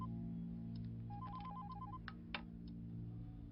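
A telephone rings in a tense office, a steady electronic ringtone repeating in short bursts beneath a low background hum, with a couple of faint clicks and no voices.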